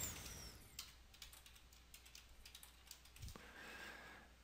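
Someone types on a computer keyboard in an uneven run of quick, faint key clicks, with no talking.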